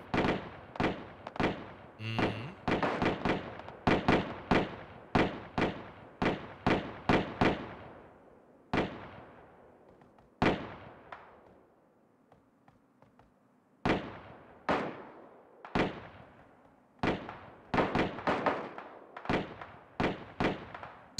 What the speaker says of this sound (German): Dafür, dass so viel geschossen wird, sterben ganz schön wenig.